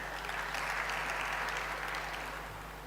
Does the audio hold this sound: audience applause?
yes